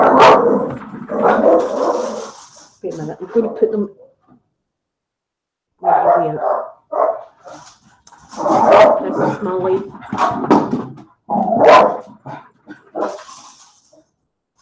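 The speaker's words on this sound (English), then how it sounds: "she's going to bark" A pet dog barks in short, sharp bursts close by, the yaps scattered between stretches of someone talking at home, with quiet gaps in between.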